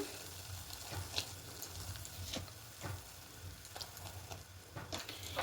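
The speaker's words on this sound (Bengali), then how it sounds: "দেখুন জলটা ফুটতে শুরু করে দিয়েছে" Water coming to a boil in a pot for veg fried rice, a soft continuous bubbling hiss with scattered faint pops and clinks, steady and fairly quiet throughout.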